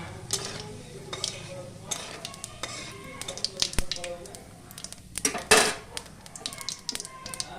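Cumin seeds, ginger, garlic, onion, chilli powder and torn green chillies sautéing in a pan for a jackfruit curry, with crackling sizzle, repeated clinks and scrapes of a spoon against the metal, and a sharper clatter near the end.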